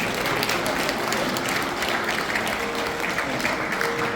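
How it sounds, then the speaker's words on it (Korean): Audience applause of thanks for chairman Yang Jae-gon at a Korean hometown association lecture, steady dense clapping from a room crowd throughout, fairly loud and even. "여러분 우리 양재곤 회장님에게 감사의 박수를 한번 부여버립시다"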